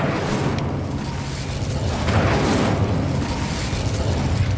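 The Incendio fire spell in the Hogwarts Legacy video game produces a steady, loud, close roar of rushing flame that runs without a break for several seconds, with no clear pauses.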